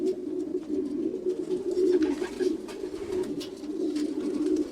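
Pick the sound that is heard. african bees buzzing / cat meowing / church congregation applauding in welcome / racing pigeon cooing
racing pigeon cooing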